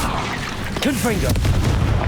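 Confringo spell explosion in Hogwarts Legacy, a loud blasting burst with crackling impact, mixed with a voice shouting and swooping magical tones, over dense game ambience.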